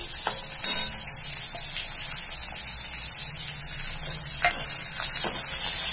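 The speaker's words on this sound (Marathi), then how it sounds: "आता कांदे चांगले लाल होईपर्यंत आपण भाजून घेऊ." Finely chopped onion frying in a pan with garlic and coconut slices, a steady close hiss of sizzling oil with occasional soft stirring scrapes, continuous and even throughout.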